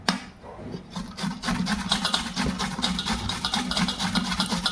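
Raw papaya is rubbed against a kitchen grater in quick, repeated rasping strokes. The sound is close and fairly soft, with a steady scraping rhythm and no talk.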